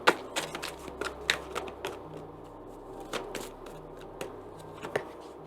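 Tarot cards being shuffled and drawn, with a run of crisp riffling snaps and flicks over a quiet low hum, close and fairly soft, with no talking.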